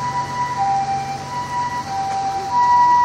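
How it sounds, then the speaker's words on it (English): A fire truck siren wails steadily at moderate distance in Japan, its tone rising and falling over constant traffic rumble. "So this fire truck just pulled up here and the guys just ran out of it"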